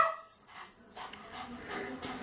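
A pet dog named Black barks and yips in short bursts at moderate distance, with quiet pauses between the calls and a faint voice underneath.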